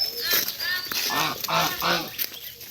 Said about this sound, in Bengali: কটা হাঁস আছে এখানে?